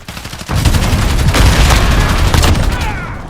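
Gunfire in the Call of Duty Modern Warfare beta, loud rapid bursts of automatic shots that start abruptly and carry on densely to the end.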